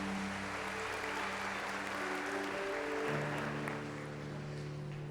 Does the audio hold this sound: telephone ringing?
no